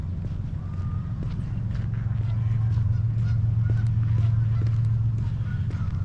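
Geese honk repeatedly over steady low rumbling, like wind or distant traffic, the calls scattered and moderately distant, near a wetland in Calgary on New Year's Day.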